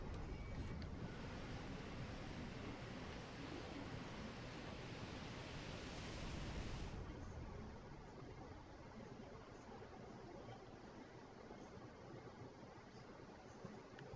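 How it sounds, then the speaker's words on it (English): Water rushes out and drains after a seal is opened in Dark Souls' New Londo: a loud, broad roar of flowing water that drops abruptly to a softer, steady wash about halfway through. "Let out the water."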